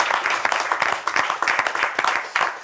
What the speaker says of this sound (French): Applaudir.